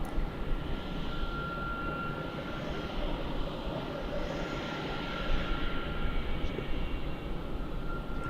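Jetstar passenger jet engine at Melbourne Airport, a broad steady rumbling roar at moderate distance, swelling slightly toward the end, no talk.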